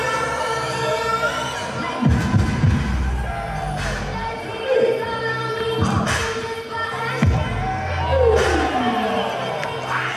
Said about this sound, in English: The music goes off, the crowd goes wild.